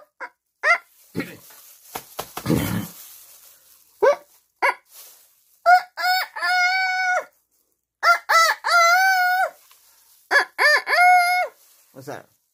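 Several roosters crow in turn, loud and close, with bursts of clucking and short noises between the calls.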